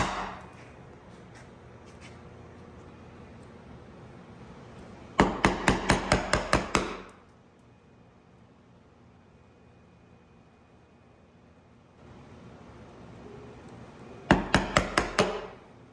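A mallet tapping a chisel through a pine dovetail, heard as two close bursts of about six sharp, evenly spaced strikes separated by quiet workshop hum.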